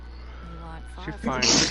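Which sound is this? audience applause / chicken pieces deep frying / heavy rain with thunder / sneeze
sneeze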